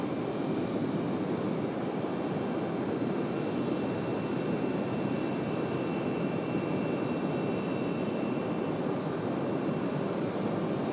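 Aer Lingus jet airliner at Raleigh-Durham International Airport at night, a continuous even jet roar with a thin high engine whine, moderate in level and steady for the whole stretch, with no talking.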